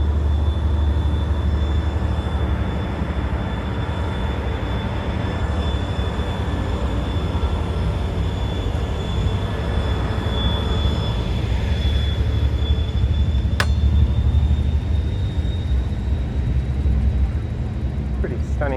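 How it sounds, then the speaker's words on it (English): A long, steady rumble of a freight train rolling past, with a high whine running through it and one sharp metallic click partway. "Freight train, it looks like."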